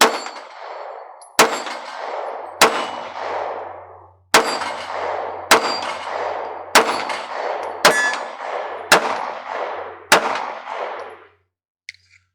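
A Smith & Wesson Bodyguard 2.0 pistol fires about nine shots at a steady, unhurried pace. Each sharp report comes with a bright metallic clang off a steel target that rings out briefly before the next shot.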